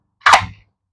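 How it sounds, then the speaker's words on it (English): A single sharp pneumatic snap from a nail gun firing into lumber, close and loud, followed by silence. "And get yourself your nail gun."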